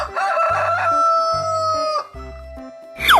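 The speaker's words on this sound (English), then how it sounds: "Chicken." Cartoon rooster crowing in a long bright rising-and-falling call, loud and close, over a thumping beat of background music, followed by a second shorter crow at the end.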